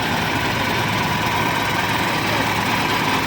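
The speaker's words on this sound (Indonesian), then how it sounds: "Mesinnya masih aktif karena lagi dicek ban ya." Motorcycle engine running steadily in a workshop while the tyres are checked. The rough, loud, unbroken rumble sits close to the microphone and never changes.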